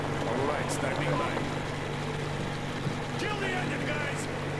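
A boat engine in the video game Metro Exodus drones steadily throughout, with voices speaking over it.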